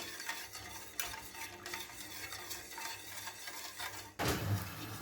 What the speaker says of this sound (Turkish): Şimdi kaynayana kadar karıştıralım.